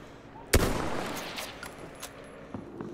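Gunfire in a Battlefield 1 multiplayer battle: one sharp, loud shot bursts out, then a decaying rumble and scattered fainter shots in the distance.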